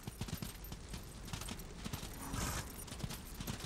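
A horse's hooves clip-clop in the video game Darksiders, a fast run of loud, close, regular thuds that continues without pause, with a brief hissing swell partway through.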